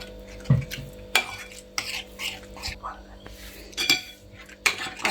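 Spices and a little oil are mixed together in a bowl for oven-baked chicken, with intermittent clinks and scrapes of a spoon against the dish, close and moderately loud, and faint speech in the background.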